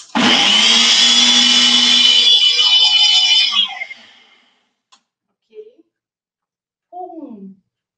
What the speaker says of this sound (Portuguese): então eu vou ligar aqui o liquidificador, fazer um creme com isso